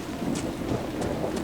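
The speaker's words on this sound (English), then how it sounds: "There's lots of rain." Steady rain in the Crestwood area of the video game Dragon Age: Inquisition, with low thunder rumbling through it and swelling a few times over the short stretch.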